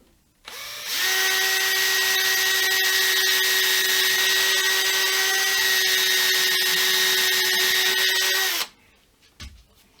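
A power drill bores a hole into a handmade guitar body during hardware fitting, one steady high-pitched whine running about eight seconds after a short start, loud and close, stopping abruptly.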